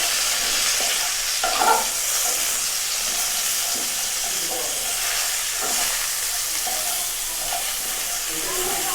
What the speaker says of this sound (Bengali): দিয়ে ফুলকপিটা আমি ভাজবো